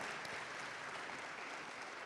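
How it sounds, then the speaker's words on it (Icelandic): A church congregation applauds the choir with a steady, dense patter of many hands clapping at once, soft and somewhat distant, with no voices heard. "Ef ekki gefa honum gott klapp."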